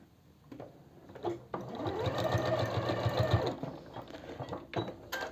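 A sewing machine stitches a line of seam on a large zip-up leather wallet made from leather scraps. The fast, even mechanical whirr runs in one continuous burst of a couple of seconds and sits close and fairly quiet.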